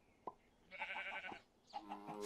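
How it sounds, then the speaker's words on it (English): Sheep in the Minecraft RLCraft modpack giving two short, faint nasal bleats, each a wavering buzzy cry, with a soft click just before the first. "I have to kill these sheep, unfortunately."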